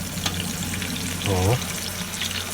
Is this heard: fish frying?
yes